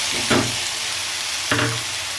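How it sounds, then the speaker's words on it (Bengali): Chicken pieces for chicken soup sizzle and fry in a hot pan, a steady hiss with two louder bursts as the pieces hit the oil or get stirred. "এবারে এর মধ্যে আমি দিয়ে দেবো চিকেনের টুকরোগুলো"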